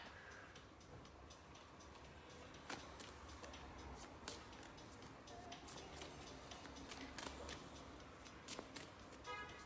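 Tarot cards being shuffled by hand, a steady riffling patter broken by sharp clicks and snaps, close and fairly quiet with no talk.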